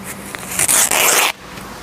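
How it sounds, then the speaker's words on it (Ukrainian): A sealed bandage package is ripped open by hand, a sharp, close, crackling tear lasting under a second that starts abruptly and stops cleanly, with quiet room tone before and after. "Ми розкриваємо пакет."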